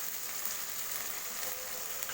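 Meat sizzles steadily in a hot pan as it is stirred during home cooking, a close, continuous crackling hiss with no voices.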